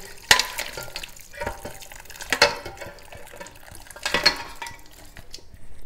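Water being drained off cooked goat meat in a kitchen, with splashing pours and drips in a few short bursts, some sloshing and clinking in between.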